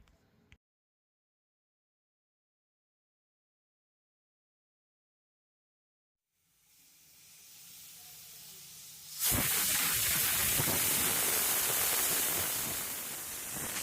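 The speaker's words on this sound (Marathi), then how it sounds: "आपल्या तीन शिट्ट्या झाल्या आहेत गॅस बंद करूयात" A pressure cooker of chana pulao on a gas stove, after a long silence, begins hissing softly, then bursts into a loud, sustained whistle of escaping steam that holds for several seconds.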